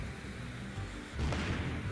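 A bomb explodes in the video game Loco Dojo Unleashed, a sudden broadband boom that swells over a busy, steady game soundscape and lingers briefly.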